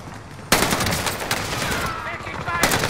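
Heavy automatic gunfire in Call of Duty: Modern Warfare, a loud sustained burst starting abruptly and running to the end with a second surge near the close, dense and close-up.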